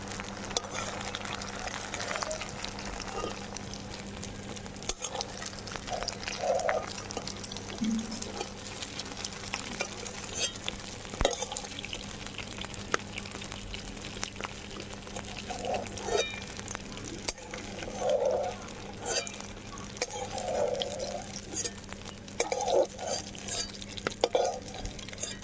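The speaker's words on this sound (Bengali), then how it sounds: "এবার আমি তেল থেকে ছেঁকে তুলে নেব।" Fried paneer pieces are lifted out of hot oil with a slotted spoon while the oil bubbles and sizzles steadily, with occasional soft scrapes and clinks against the pan over a low hum.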